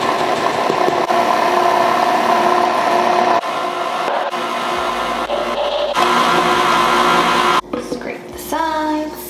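Electric mixer on its stir setting blending flour and milk into a pineapple upside-down cake batter, a steady whirring hum with the motor tone shifting and briefly cutting out, close and loud.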